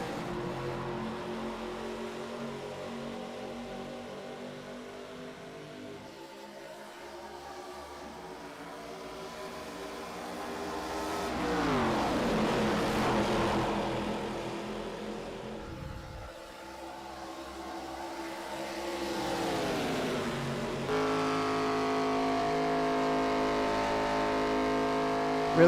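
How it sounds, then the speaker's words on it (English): Race cars in iRacing sim racing surge forward on a green-flag restart at Echo Park Speedway, a loud droning engine roar that swells and shifts pitch as the pack accelerates, continuous throughout with no talk. "Green flag once again as Michelson gets us going"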